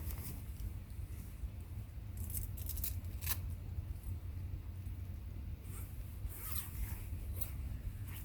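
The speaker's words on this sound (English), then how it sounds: "We'll just unzip it down the bivvy." A zipper on a bivvy bag is drawn open in several quick rasping pulls at a freezing-rain winter camp, close and clear over a steady low background rumble.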